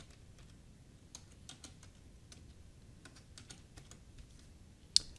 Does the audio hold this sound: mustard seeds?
no